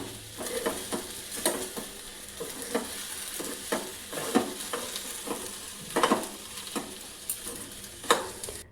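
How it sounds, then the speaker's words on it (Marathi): Okra stir-fried in oil with a squeeze of lemon juice, a soft steady sizzle broken by regular scraping strokes of a spatula every second or so, fairly quiet and close, with no talking. "भेंडी चांगली परतून घ्यायची आहे"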